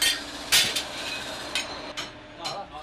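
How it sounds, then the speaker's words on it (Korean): Heated iron being hammered at a blacksmith forge in a traditional smithy village: about five sharp metallic strikes at irregular intervals, ringing clearly over a low background murmur. "그렇게 하루 종일 불에 달구고 망치로 때리기를 수차례"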